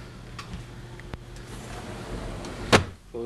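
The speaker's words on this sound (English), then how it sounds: "close these doors." Doors in an apartment being swung shut, with a few soft knocks and a sharp bang near the end, followed by a low rumble, all fairly near in a quiet room.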